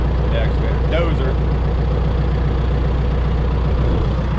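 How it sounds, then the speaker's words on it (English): Steady, close idle of a bulldozer engine in a field, a constant deep throbbing drone at even loudness with faint talk over it. "I'm going to be popping everything out with this"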